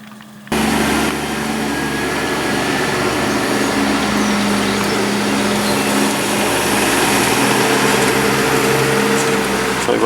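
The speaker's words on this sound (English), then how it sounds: "So here's the forager, and first load of silage just coming in as well." A forage harvester and tractor working a silage field, a loud continuous engine drone holding steady throughout with a persistent low hum, close by and uninterrupted.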